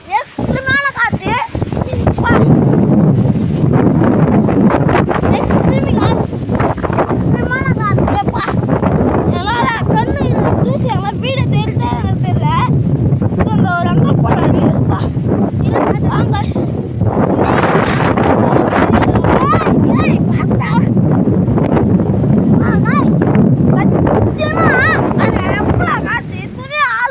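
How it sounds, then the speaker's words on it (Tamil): Strong gusting wind buffets the microphone continuously with heavy rumbling, while voices speak throughout, partly drowned out by the roar. "எக்ஸ்ட்ரீமான காற்று"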